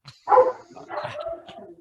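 Two rescue dogs indoors bark at someone at the door, with a loud bark followed by a rough, continuous string of overlapping barks and yips close by.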